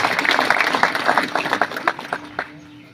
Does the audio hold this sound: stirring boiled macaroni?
no